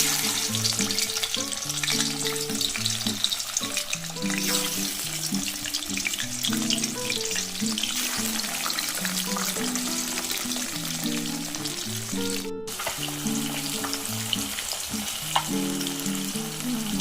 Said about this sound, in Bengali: চলো এখন আমি মাছগুলো ভাজবো